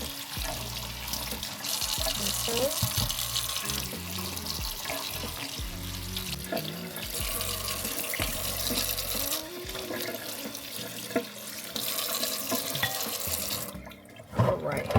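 A kitchen tap runs cool water over lamb chops in a sink, a continuous splashing stream with shifting gurgles as the meat is turned, ending abruptly near the close; a brief spoken word is heard.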